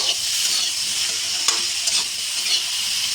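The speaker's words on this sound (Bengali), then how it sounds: "এখন টমেটো কুচিটা ভালো করে নেড়ে চেড়ে" Chopped tomatoes frying in a pan while being stirred, giving a continuous loud, close sizzle with a few soft spatula scrapes.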